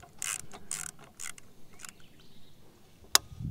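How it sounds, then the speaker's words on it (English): A Borka torque limiter tightening a mount on an MK22 ASR sniper rifle: a run of close ratcheting clicks in short bursts, then a sharp final snap when the set torque is reached. "So I'm going to insert my Borka torque limiter."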